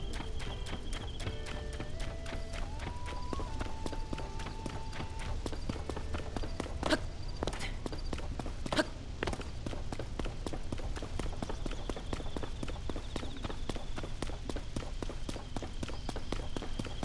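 Skeleton horses in a video game clip-clop in a steady, even run of hoof beats under a held musical tone and a faint background hum.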